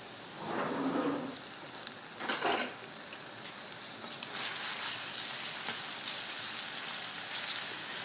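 Chicken sausage sizzles and crackles steadily in a hot pan, a soft continuous hiss with a few faint scrapes near the start and no voices.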